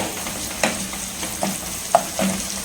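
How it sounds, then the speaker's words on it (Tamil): Mustard seeds and fenugreek sizzle in hot oil in a pan for a garlic kuzhambu, giving a soft continuous hiss with a few scattered pops and light stirring scrapes. "கடுகு சேர்த்துக்கிறேன். கடுகு வெந்தயம் சேர்க்கணும்."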